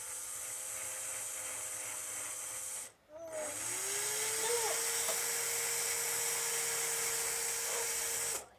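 A small high-speed rotary drill whines steadily and close, cutting out briefly and then spinning back up, with a faint hiss and no voices.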